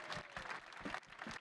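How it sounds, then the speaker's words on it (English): Audience applause closing a robotics panel at a conference, a quiet, distant wash of clapping that swells and dips in rhythmic bursts. "I think we should close out with a big round of applause to this panel."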